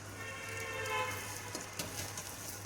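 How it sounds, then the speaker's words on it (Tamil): Garlic cooking in hot oil in a pan for Tamil-style garlic pickle, giving a steady, even sizzle and crackle throughout, with a few louder pops, close and moderately loud, no voices. "இப்போ பூண்டை கொட்டிக்கலாம்."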